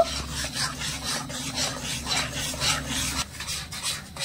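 A spoon stirring water and salt together in a cup while making a Bengali sweet, a steady rhythmic scraping and rubbing against the vessel, close and moderately loud, repeating in quick strokes.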